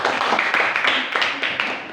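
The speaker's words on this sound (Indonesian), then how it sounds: "Tepuk tangan kelompok 4" Classroom applause for a student group, a dense patter of hand claps from a crowd of pupils, steady and fairly loud throughout with slight swells.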